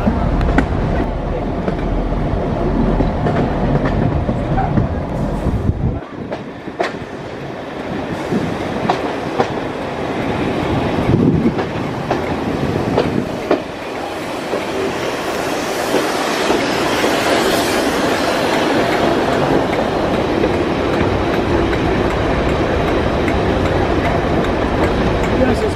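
A steam train on the West Somerset Railway rolls past close by, a loud sustained rumble with clattering wheels that swells toward the end, with brief talk near the start.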